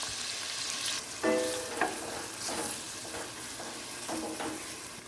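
Chopped red and green peppers and onion fry in melted margarine, giving a steady, close sizzle broken by a few scraping stirs of the pan.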